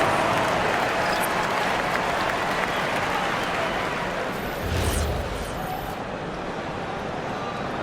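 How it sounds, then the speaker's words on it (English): Loud, sustained applause from a large crowd filling a big indoor arena at a WNBA basketball game, with a brief deep thump partway through. "Fans, please give a big round of applause."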